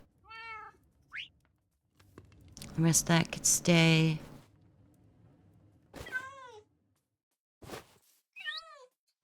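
Several short meows from pet cats in a Minecraft game, scattered through the clip with gaps between them, alongside a burst of louder game sounds and a person talking.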